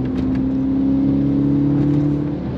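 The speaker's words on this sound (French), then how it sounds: "j'aime bien, c'est la montée en régime. C'est un son méga rauque quand même." BMW 320i E90 four-cylinder engine revving, a steady raspy droning tone that holds and slightly rises in pitch, close and fairly loud, with no voices.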